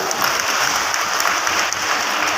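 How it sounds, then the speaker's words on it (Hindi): Steady, dense applause from a large audience at a public foundation-stone and inauguration event with the Chief Minister, close and continuous with no break. "इनके लिए जोरदार ताली।"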